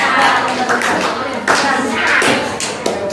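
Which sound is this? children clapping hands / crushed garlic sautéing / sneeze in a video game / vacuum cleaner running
children clapping hands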